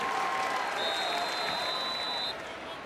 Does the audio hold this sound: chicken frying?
no